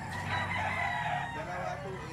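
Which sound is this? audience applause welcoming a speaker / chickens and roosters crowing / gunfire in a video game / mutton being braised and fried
chickens and roosters crowing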